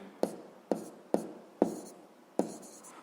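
Pen writing down a physics answer on paper, five distinct scratchy strokes with brief decaying scrapes, close and fairly quiet with no talk.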